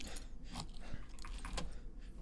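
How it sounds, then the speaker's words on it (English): Keys jangle and a lock clicks as a door is unlocked in the video game Escape From Tarkov, with a few quick metallic rattles and taps heard close and fairly quiet. "We'll unlock the door."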